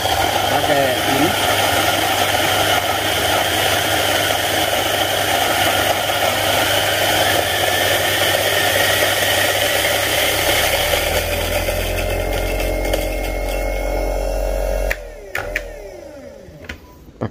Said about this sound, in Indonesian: Pakai gilingan mesin dulu aja lah.